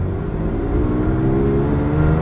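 A 1984 Ferrari 512 BBi engine pulls away slowly from a near stop with a steady, low, rising hum from inside the car.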